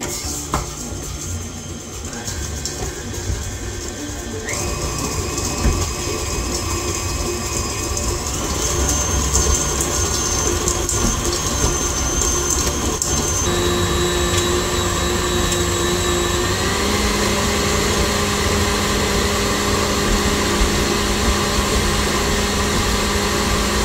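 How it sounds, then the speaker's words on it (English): A stand mixer creams butter with half a cup of brown sugar, a loud, continuous motor whir with shifting tonal pitches that runs steadily throughout without talk. "And you're just going to cream that together until it's nice and smooth."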